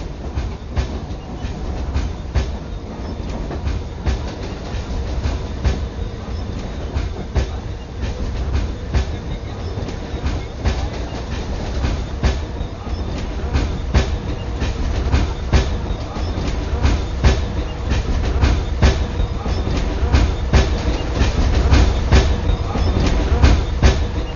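A passenger train runs steadily along the rails, its rhythmic clickety-clack loud and close from inside the carriage, rumbling continuously and building slightly toward the end.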